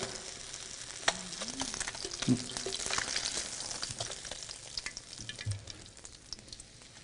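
Fish fries in a pan with a steady, close hiss and crackle, with a few brief clinks of a utensil against the pan partway through.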